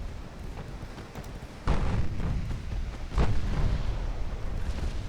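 Warship guns fire at light cruisers in a naval combat video game, two heavy booming salvos landing about a second and a half apart over a steady rumbling background, with no talk.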